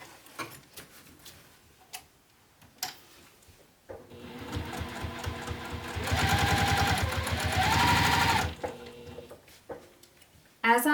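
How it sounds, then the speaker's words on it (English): A sewing machine top-stitches the exterior of an Apothecary bag in a loud steady run of about four seconds, preceded by a few ticks and handling clicks, with someone talking around it. "Now what I'm going to do is I'm going to top stitch"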